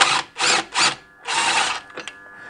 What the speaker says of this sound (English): I've got my universal joint on my ratchet here, my impact ratchet.